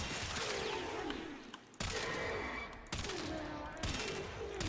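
Heavy bursts of Felarx shotgun fire in the Warframe video game, three or four loud booming shots spaced about a second apart over a busy background.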